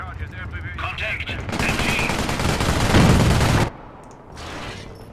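Machine gun fire in a Company of Heroes World War II battle at Arnhem, a loud sustained burst of rapid shots lasting a few seconds, dense and close, then dropping away to distant rumbling.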